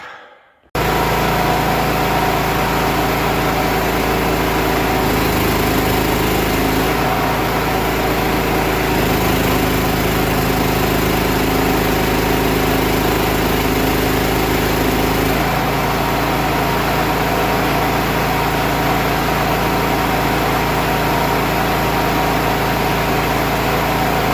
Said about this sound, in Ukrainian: Йде нагрузка на двигун.